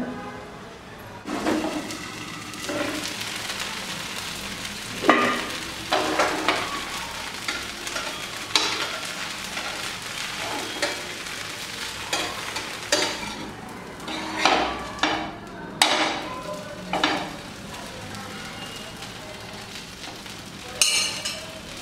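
Onion wheat rava dosa cooking on a hot tawa with oil, a steady close sizzle running throughout, broken by repeated sharp scrapes and clinks of a metal spatula against the pan.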